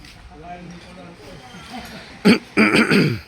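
Faint background murmur, then a couple of sharp coughs or throat-clearing bursts close to the microphone near the end.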